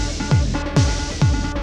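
Queen of Pentacles effects pedal switched to its alternate mode, giving a dense, saturated tone with four sharp rhythmic accents repeating about every half second, loud and close.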